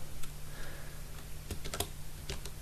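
Keys on a computer keyboard are tapped while entering Python code, giving a few sparse, light clicks that cluster near the end, close and quiet over a faint hum.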